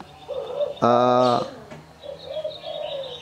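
Spotted dove (tekukur) cooing: a short, loud, harmonic coo phrase close to the listener, framed by softer chirpy calls before and after in a quiet outdoor setting.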